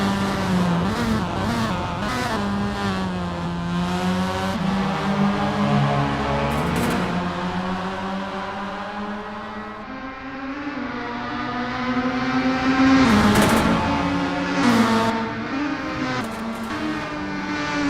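A Formula Mazda race car in Assetto Corsa at the Dragon Trail Seaside track, its engine droning and rising and falling through the gears, with a few sharp shifts and a steady, close whine throughout.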